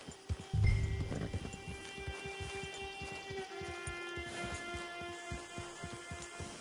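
A horse in Red Dead Redemption 2 walks with steady clip-clop hooves, a neigh near the start, over a quiet sustained musical drone with no talk.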